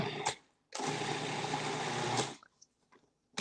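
A kitchen blender whirs at steady speed for about a second and a half, pureeing ingredients for homemade dog treats into a chunky mix, close and loud, with a short burst before it and small clicks and knocks after.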